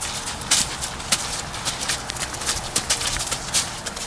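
Horse hooves clop on a hard floor as the horse backs into a garage at an active stable, with irregular, fairly close steps over a noisy background.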